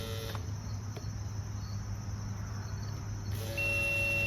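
A Kohler EFI high-pressure electric fuel pump, powered from a jumper pack, gives a steady faint electric buzz and hum, close by and alone, with a brief click near the end.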